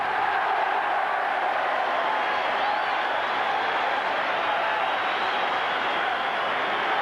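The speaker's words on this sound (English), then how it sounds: "Listen to the cheer." Stadium crowd roaring steadily for Widnes at a rugby league championship trophy presentation, a broad sustained cheer with no individual voices standing out, loud and even throughout.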